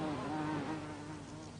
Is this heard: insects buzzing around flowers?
yes